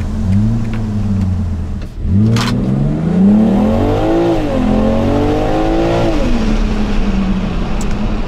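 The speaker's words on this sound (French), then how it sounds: "ça fait un beau bruit d'aspiration quand même, hein, on entend bien le turbo" A 2021 BMW M440i Coupé engine revs hard, climbing with a rising turbo intake whoosh, dipping briefly, then sweeping up and down through several loud, close pulls.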